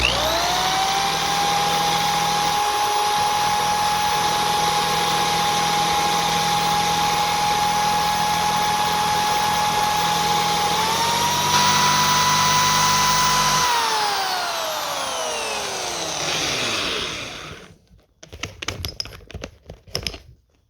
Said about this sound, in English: hold the wire brush to it while it spins